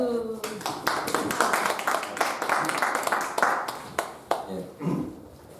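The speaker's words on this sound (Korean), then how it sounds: "박수." A small audience at a church mission school opening ceremony in New Zealand claps steadily for several seconds after a lecture is introduced, close and fairly loud, with a voice speaking over it near the end.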